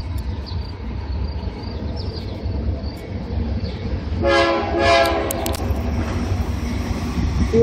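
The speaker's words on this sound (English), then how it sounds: "Here comes another BNSF." A BNSF freight train rumbles past in Alma, Wisconsin, its loud horn blaring in a couple of blasts midway over the heavy rolling noise, with insects chirping faintly in the background.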